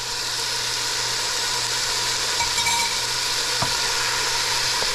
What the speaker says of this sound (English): Fry that all up.